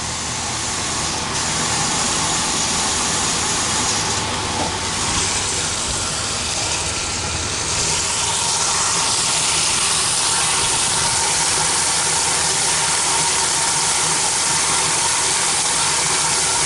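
A vintage 1981 Whirlpool belt-drive washer fills with water, a steady broadband rush and hiss holding at an even level throughout with a faint mechanical undertone.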